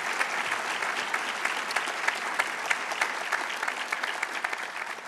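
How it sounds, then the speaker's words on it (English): Dense, sustained audience applause fills the hall at the 2014 Louis I. Kahn Award ceremony honoring architect Steven Holl, steady and even throughout with no talking. "if you could please join me in a round of applause"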